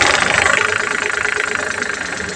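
A car engine with a misfire runs at idle, a steady mid-pitched drone with a faint uneven pulsing throughout, close and fairly loud, with no talk over it.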